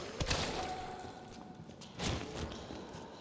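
Gunfire in the Resident Evil 3 Remake video game: two sharp, loud shot bursts about two seconds apart over a steady background of game ambience.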